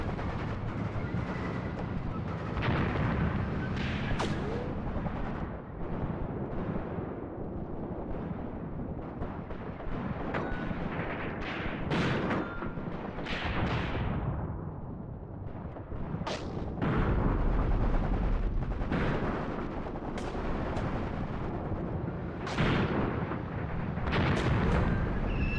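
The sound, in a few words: mortar fire on half-track in Graviteam Tactics video game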